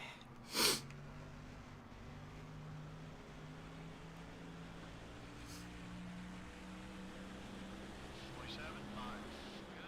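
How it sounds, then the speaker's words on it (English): One sharp, loud human sneeze bursts out near the start. A steady low drone of engine noise from the NASCAR Thunder 2004 racing game continues underneath. "My nose keeps tickling. Just sneeze."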